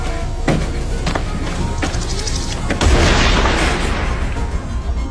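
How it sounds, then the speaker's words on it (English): Several sharp, booming gunshot-like cracks ring out at irregular intervals over dense, loud background noise, followed by a rushing roar. "Hearing the gunshot, the girl finally stops."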